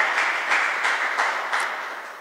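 A church congregation at a worship service claps together in a brief burst, with rhythmic, slightly uneven hand claps at moderate distance and no voices over them.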